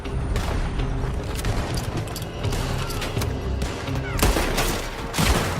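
Gunfire in the video game Red Dead Redemption 2, a dense, continuous firefight of overlapping shots and bangs at close range, loud and relentless for the whole stretch.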